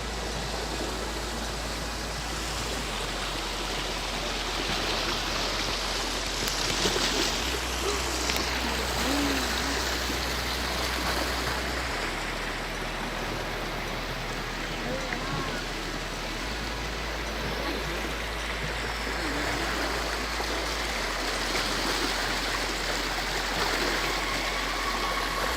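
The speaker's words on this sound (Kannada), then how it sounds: "ಅದು ಪಕ್ಕದಲ್ಲಿ ಹರಿಯುವಂಥ ನೀರೇ ಕುಮಾರಧಾರ ನದಿ ಅಂತ." Kumaradhara river flowing nearby, a broad steady rush of water lasting throughout, fairly loud and even, with a low background hum.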